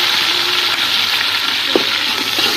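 Onion, tomato and green chilli fry in a pan with a steady, loud sizzle throughout, broken by a brief stir or clatter near the end; no one speaks.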